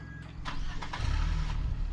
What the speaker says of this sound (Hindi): बैठ जाओ, गाड़ी चलाओ।